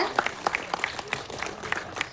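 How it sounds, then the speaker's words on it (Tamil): Scattered clapping from an audience at a short film award ceremony, a few distinct nearby claps ringing out irregularly alongside faint speech, rather thin than a full ovation. "ஒரு பலத்த கைத்தட்டு ரொம்பவே ஜோராவே கொடுக்கலாம்"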